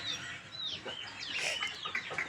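Four roosters at a poultry farm cluck and squawk in overlapping bursts, fairly close over a steady background hiss.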